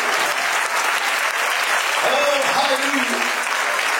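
A New Year watchnight service congregation claps hard and steadily in a dense wash of applause, with voices rising over it partway through.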